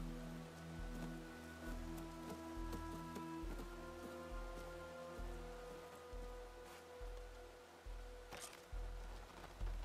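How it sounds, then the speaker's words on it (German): Rain falling in the video game Horizon Forbidden West, a faint, steady patter of drops on surfaces over a low, pulsing ambient background tone, with no speech. "Wieso stört der Regen?"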